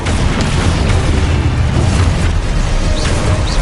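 Confringo blasting spell going off in the Hogwarts video game: loud, dense booming explosions that rumble continuously, one burst rolling into the next, with no talk over them.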